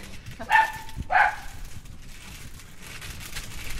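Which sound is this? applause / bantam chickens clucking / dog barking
dog barking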